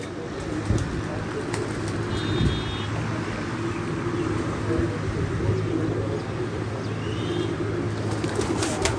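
Pigeons at a pigeon loft near Islamabad coo in low, soft bursts over a steady bed of outdoor noise and passing traffic, with occasional thin chirps; no voices are heard.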